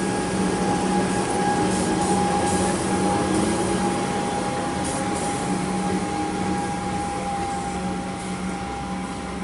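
Melbourne suburban train on the Cranbourne line departing a station, a loud, continuous rumble with a steady tonal motor whine that runs throughout and fades only slightly toward the end.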